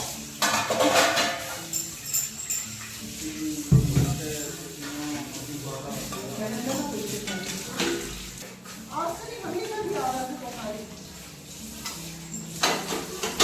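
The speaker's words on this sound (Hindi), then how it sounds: "तो यहाँ पर बर्तन सारे मंज के धुल गए हैं" Dishes and utensils being scrubbed and rinsed in a home kitchen sink, with close clinks of metal pots and plates and running water, while someone talks over the work.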